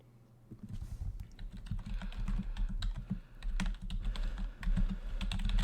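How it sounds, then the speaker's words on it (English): Rapid, uneven clatter of keys on a computer keyboard, close and fairly loud, with bursts of clicks running steadily over a low background hum. "I do apologize about the typing."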